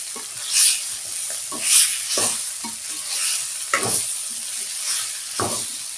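Pepper chicken with curry leaves is stirred in a pan, with scraping utensil strokes over a steady close sizzle.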